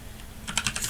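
Several quick keystrokes on a computer keyboard come in a brief burst, close and fairly quiet after a moment of near silence.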